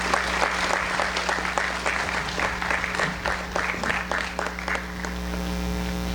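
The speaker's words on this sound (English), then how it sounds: "Let's give these students a round of applause." Audience at a senior awards ceremony applauds students, a steady wash of many hands clapping over a constant low hum, sustained for several seconds without speech.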